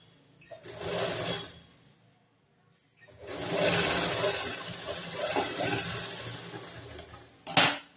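A sewing machine stitches a blouse sleeve on a blouse without lining, running in a short whirring burst, pausing, then a longer steady run, ending with a sharp click.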